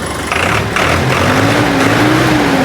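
A tractor engine, a 2023 model, runs and revs outdoors in a Punjab village, a steady loud rumble with a rising whine as the revs climb, no talking.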